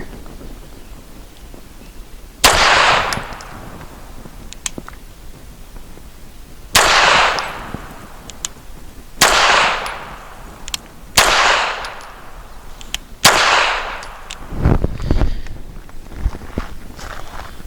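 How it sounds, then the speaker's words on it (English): Five loud, sharp pistol shots from a Grand Power K100D firing Nosler 147 grain ammunition at an outdoor range, spaced a few seconds apart, each cracking and ringing out into a short reverberant tail. "So for 5 shots from 7 yards, we're going to use the Nosler 147 grain"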